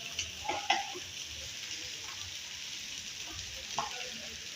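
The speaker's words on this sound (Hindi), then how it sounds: "इसके जो प्याज हो गए इसके अंदर लहसुन डाल रही हूँ।" Soft, steady sizzle of garlic added to fried onions in a pan with coriander powder for a desi chicken curry, with a few clinks and stirring sounds, fairly quiet and close.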